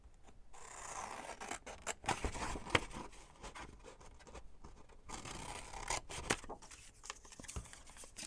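Scissors snip repeatedly through paper, cutting out butterfly shapes for a junk journal; a steady run of close, crisp cuts and rustles with brief pauses, no talking.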